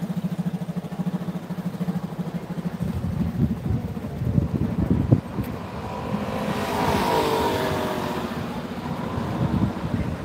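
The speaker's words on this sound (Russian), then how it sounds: "Здесь столько мотоциклов в Париже." Traffic on a busy Paris street rumbles close by as motorcycle and car engines rev and pass, with one louder vehicle surging by midway and a steady roar continuing after it.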